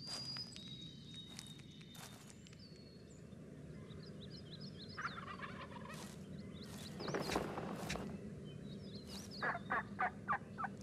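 A wild turkey gobbles in short rapid bursts, fairly faint and at a middle distance, with other bird calls and footsteps rustling through leaves.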